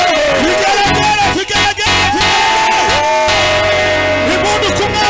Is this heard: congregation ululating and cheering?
yes